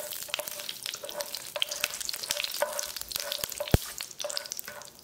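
Cinnamon and cloves fry in hot oil for a coriander gravy, a constant crackling sizzle broken by light spoon taps and one sharp knock against the pan.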